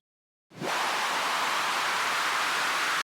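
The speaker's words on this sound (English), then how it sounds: "the white noise actually sounds like this originally" A burst of broad white noise starts abruptly, holds at a steady loud level for about two and a half seconds, then cuts off sharply.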